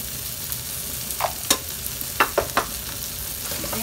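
Shrimp is stirred in a pan with a pinch of sugar, giving a constant frying sizzle broken by several short scraping and clacking strokes from the stirring.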